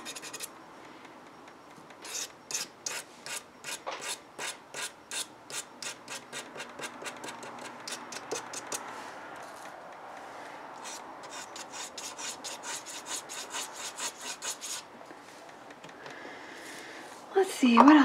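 A quill pen scratches across paper while drawing, making close, rasping strokes in quick regular bursts, then longer continuous scribbles, with faint room tone and a brief voice at the very end.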